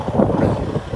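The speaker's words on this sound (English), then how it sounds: "It's kind of breezy out here. You guys probably can hear that." Breezy outdoor wind buffets the microphone on a hot day beside an idling truck, giving a brief, steady low rumble with gusty bumps and no talk.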